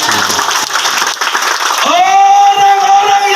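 An open-field revival congregation at Kampung Putaly applauds for Jesus, dense crowd clapping that fills the space at first and then gives way to a sustained musical tone.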